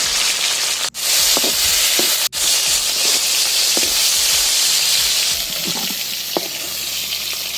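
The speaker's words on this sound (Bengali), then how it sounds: "ওই তেলের মধ্যে দিয়ে দেবো কিছু মাংসর টুকরো।" Salted boneless meat pieces fry in hot oil in a wok for fried rice, giving a steady close sizzle with occasional stirring scrapes and clinks and no talking.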